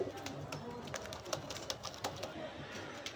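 Pakistani pigeons, including white cream-eyed birds, coo softly amid scattered clicks and shuffles in a loft, several low calls repeating over a quiet background without clear talk.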